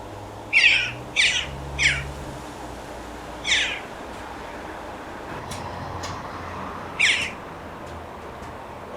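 A magpie calls from a tree with harsh, rasping chatters: a quick burst of three, then single calls spaced apart, standing clearly above steady low background rumble outdoors.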